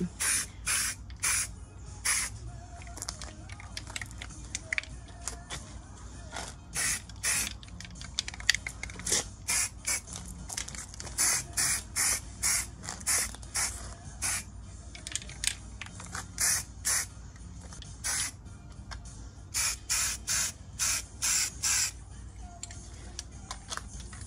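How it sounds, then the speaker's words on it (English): Short hissing bursts of spray paint coating a homemade witch cauldron, repeated in quick rhythmic pulses of varying length, close and fairly loud, with brief pauses between sprays and no talking. "I'm going to spray the whole inside of the cauldron with this same stuff"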